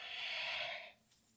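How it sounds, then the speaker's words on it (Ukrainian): A single soft exhale through the nose during a yoga breathing practice, a breathy hiss lasting about a second that fades out, quiet and close. "І ще два вдих. Видих."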